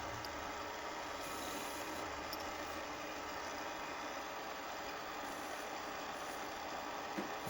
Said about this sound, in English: I'm just using the metal lathe to fine tune the last little bit